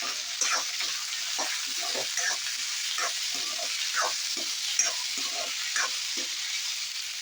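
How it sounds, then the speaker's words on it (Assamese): Onion, garlic and tomatoes frying in oil with a continuous sizzle, broken by repeated scraping stirs at a steady rhythm; close by and fairly quiet, no speech. "এতিয়া মই নহৰুখিনি দি দিছো আৰু বিলাহীখিনি দি দিম।"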